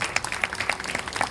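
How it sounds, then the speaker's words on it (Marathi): Audience at a devotional gathering clapping, a quick run of close, crisp claps in steady succession. "एकदा जोरदार टाळ्या झाल्या पाहिजे"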